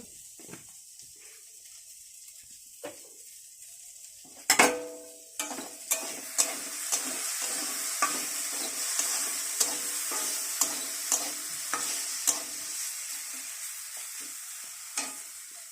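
Quiet crackle at first, then a burst of sizzling as chilies hit hot oil, followed by a steady frying hiss with repeated sharp pops and stirring clatters.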